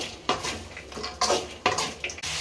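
A cauliflower, potato and green pea kurma being stirred in a pan, with a few distinct metallic scrapes and knocks of a spoon against the pan over a low background hum.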